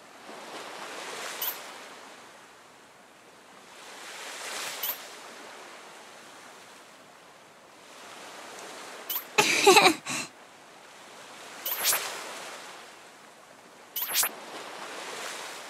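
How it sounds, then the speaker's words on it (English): Gentle ocean waves from the Pokemon Masters game swell and recede in slow, soft cycles, with a few brief bright splashy bursts near the end. "The sound of ocean waves is so mysterious."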